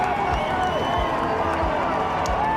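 A race-track crowd cheers and roars for a winning stock car driver, a dense steady wash of voices with whoops rising above it, close and loud throughout.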